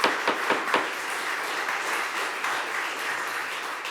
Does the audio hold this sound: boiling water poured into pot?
no